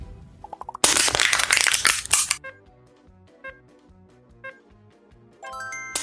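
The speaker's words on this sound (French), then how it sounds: "Une canette qui se fait écraser" An aluminium can is crushed with a dense burst of crackling and crumpling, followed by scattered sharper creaks and pops as the metal settles, close and alone.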